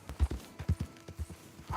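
Horse hooves in Red Dead Redemption 2 beat out a soft, uneven run of thuds, fairly quiet and close, several footfalls within under two seconds.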